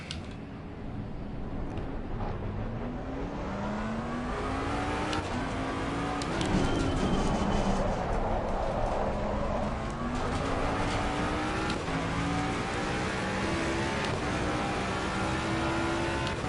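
Race car engine in Assetto Corsa Competizione on PS4, revving loudly and steadily with rising and falling gear pulls, a continuous close engine roar with no talk.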